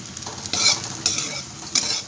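Soybean nuggets stir-fried with salt in a pan sizzle steadily up close, broken by several sharp bursts of spatula scraping and stirring, with no voices.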